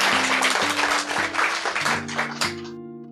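Applause rises from the audience at a poetry performance, a dense wash of clapping alongside sustained background music tones, fading out near the end.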